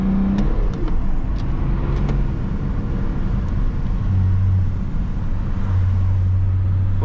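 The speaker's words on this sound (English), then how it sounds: "it won't go really fast, but still it's enjoyable acceleration" Diesel exhaust of a remapped BMW E34 525 TDS Touring accelerating, a steady loud low drone with rising engine tones and no talk.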